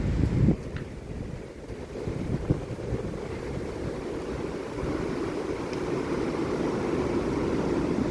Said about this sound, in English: It's still super windy.